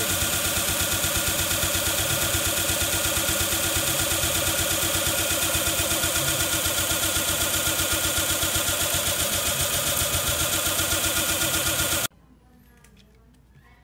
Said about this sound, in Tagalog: Ito finally guys, maandar na siya.